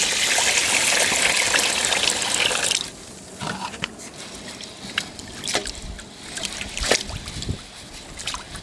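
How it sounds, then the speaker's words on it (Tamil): Rice being washed with poured water in a home kitchen: a steady rushing pour for about three seconds, followed by softer, intermittent splashes and trickles as the grains are swirled. "அரிசியை தண்ணி ஊற்றி கழுவிக்கோங்க நல்லா."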